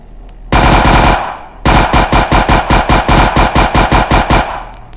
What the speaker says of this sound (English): The gun sounds are rather annoying